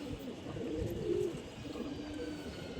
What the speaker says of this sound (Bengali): এটা সবুজ গোলা একটি কবুতর